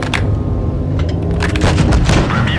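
Tank cannon fire in the mobile game WoT Blitz, loud booming shots and cracks with rumbling explosions overlapping through a dense battle mix.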